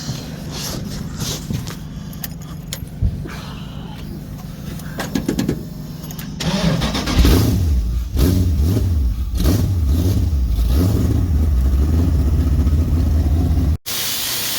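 A car engine running and revving while driving at a dune buggy shop, with hiss and a rising, wavering engine drone growing louder and steadier as it goes.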